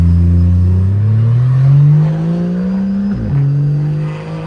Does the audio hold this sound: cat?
no